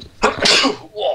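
A single sharp sneeze bursts out close, with a short breathy build-up and a brief voiced reaction just after.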